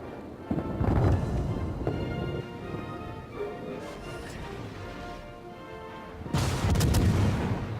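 HMS Belfast fires a naval gun salvo in World of Warships, heavy booming blasts near the start and again toward the end, with a rumbling lull of background battle noise between them.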